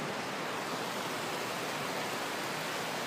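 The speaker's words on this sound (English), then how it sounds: "I was so close to a waterfall." An outdoor waterfall rushes loudly and steadily, a dense broadband roar with no pauses, close by, and no voices over it.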